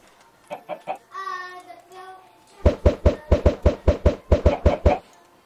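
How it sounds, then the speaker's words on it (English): Blocky Minecraft chickens clucking. A few soft clucks and a drawn-out squawk lead into a fast, steady string of about a dozen loud, sharp, evenly spaced pecking clucks. "Oh my gosh, look at all those chickens."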